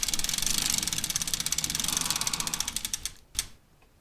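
A prize wheel spins with rapid ratcheting clicks that slow and spread out before stopping, followed by a single sharp clack and quiet.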